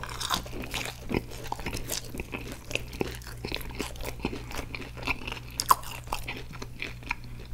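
Chocolate-dipped McDonald's French fries being bitten and chewed up close, with a steady run of crisp crunches and chewing sounds and no talking.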